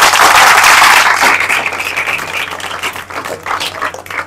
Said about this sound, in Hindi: बार जोरदार तालियां।